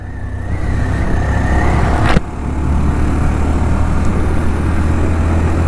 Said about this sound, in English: Accelerate in 4th gear from 50, slight uphill here again